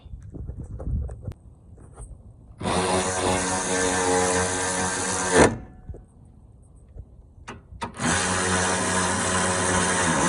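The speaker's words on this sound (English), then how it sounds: "we're gonna go ahead and tighten up our bolts" A power tool tightens bolts on a Toyota Corolla AC condenser in two long, steady whirring bursts separated by a quiet pause, with faint workshop clatter in between.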